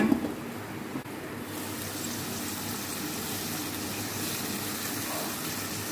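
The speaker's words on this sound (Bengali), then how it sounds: "তো দিয়ে দিলাম সামান্য পরিমাণে জল" A little water is poured into a pan of long beans for a mash, making a steady gushing splash that stays fairly even after a brief louder start.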